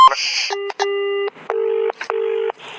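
A telephone dials out with a quick chirp of tones, then gives a series of steady, evenly spaced ringback tones, each about half a second long with brief gaps between them.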